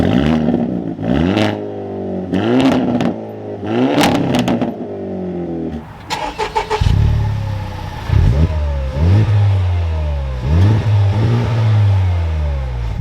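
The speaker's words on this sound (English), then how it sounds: "we'll start off in the Hyundai Elantra, and we'll accelerate up to the speed limit." A Hyundai Elantra N accelerates on the road, its engine rising in pitch through the gears with clear gear changes between rising sweeps, loud and close from inside the car, with no one talking.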